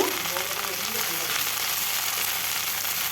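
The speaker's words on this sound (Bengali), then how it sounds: "তারপর দিয়ে দেব কেটে রাখা খারখোল পাতা বা ঘাটখোল পাতা দিয়ে ভালোভাবে নেড়ে নেব" Chopped kharkhol leaves fry and are stirred in a pan, making a steady, close hiss and sizzle that holds evenly throughout.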